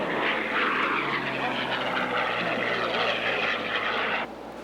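Propeller engines of vintage warbird aircraft taxiing at the 1985 Madera, California airshow, a loud steady droning rumble up close that fades slightly near the end.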